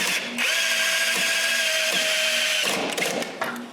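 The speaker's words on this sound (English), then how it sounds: "I can drill the holes for the roller axle" A power drill bores holes for a roller axle in the wood of a homemade edge sander, a loud steady whine running nearly continuously for about two seconds, then slowing and sputtering as the bit finishes.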